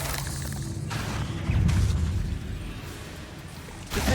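Bombarda blast spell in Hogwarts Legacy, a sustained rumbling game soundscape with a louder booming burst in the middle and another sharp hit at the very end, set among crackling effects.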